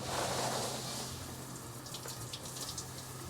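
Hot water running steadily from a tap fed by a newly working water heater, a close, even hiss and splash with a low hum beneath.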